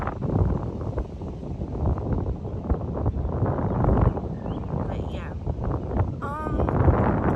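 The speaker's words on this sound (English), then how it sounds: "it's so windy out here and it's shaking." Gusty wind buffets the microphone outdoors in a constant rumbling roar, with a person speaking briefly underneath.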